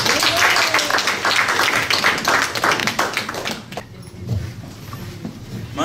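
Audience applause at a readers theater performance, dense clapping filling the first half and then thinning out into scattered claps and room noise.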